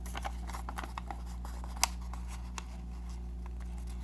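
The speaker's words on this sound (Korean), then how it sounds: "중심을 가위로 잘라주세요" Scissors snip through folded origami paper in a quiet indoor setting, with a series of small crisp cuts over a steady low hum, one sharper snip standing out.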